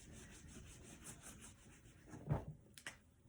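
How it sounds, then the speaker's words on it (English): A chalkboard or whiteboard being erased, a soft rubbing swish over a few seconds that builds to a brief louder scrub near the end. "Sorry, I have to erase. I only have a little bit of a board here."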